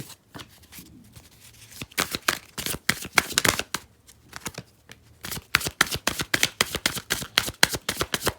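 A deck of tarot cards is shuffled by hand in quick bursts of crisp, riffling flicks that come in rapid clusters, close and clear, with brief pauses between the runs.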